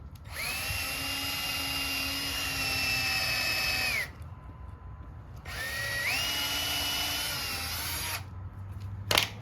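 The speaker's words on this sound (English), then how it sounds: "Drill a hole." A power drill whines through 2x4 wood in two long bursts, pitch steady then winding down, with a short pause between and room noise underneath.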